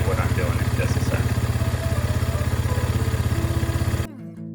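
A warmed-up Yamaha TW200 motorcycle engine idles close by with a steady, rapid putter, running evenly for about four seconds before cutting out abruptly.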